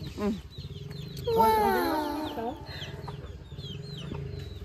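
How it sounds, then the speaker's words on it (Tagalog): Chickens cluck and squawk close by while being fed, a rooster-like call rising in the middle, over a steady mechanical hum with brief human sounds. "Ibigay mo sa mga manok."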